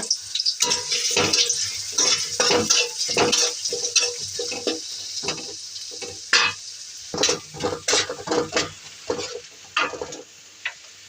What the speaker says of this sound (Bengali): এখন পেঁয়াজটাকে ভালোভাবে ভাজবো।